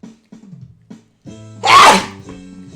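A single loud sneeze bursts out after some low murmuring and background music, close and sharp.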